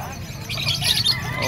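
Turkeys call at a market stall in Calumpit, Bulacan, loud squawking gobbles rising over crowd noise, with people talking nearby.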